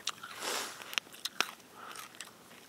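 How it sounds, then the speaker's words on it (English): Raw celery being bitten and chewed outdoors beside a fire, a quiet sequence of sharp crisp crunches and snaps spaced irregularly over a few seconds, close to the listener. "Eating some celery."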